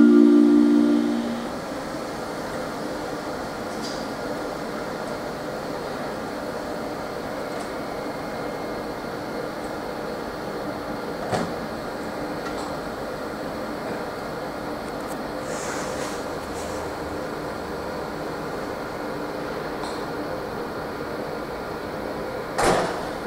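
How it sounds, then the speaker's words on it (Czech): A RegioJet InterCity 1004 train departing Pardubice main station, with a steady broad rumble throughout and a few brief sharp clicks and knocks, like doors, standing out near the end. "Vlak je připraven k odjezdu."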